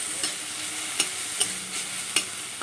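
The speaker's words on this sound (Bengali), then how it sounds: "সাদা জিরে, টমেটো আর আদা দিয়ে ফোড়ন দেওয়া হচ্ছে মুগ ডাল।" Mung dal tempered with cumin seeds, tomato and ginger sizzles in a pan, a steady moderate frying hiss broken by several sharp spatula scrapes and clinks, close and without voices.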